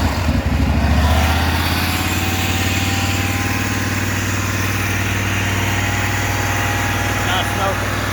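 The engine of a 2007 Exmark mower runs steadily after carburetor tuning, giving a close, loud, even drone with a brief heavier burst at the start before it settles into a constant idle.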